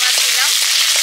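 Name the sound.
prawns frying in pan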